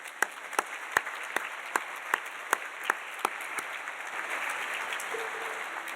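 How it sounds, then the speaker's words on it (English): An audience at a school's state-of-the-school address applauds, with sharp isolated claps standing out early before the clapping thickens into a steady, moderate round of applause. "Round of applause for you all."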